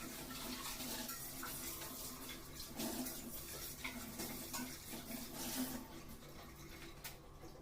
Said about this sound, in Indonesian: Mbak Ica cuci beras dulu ya teman-teman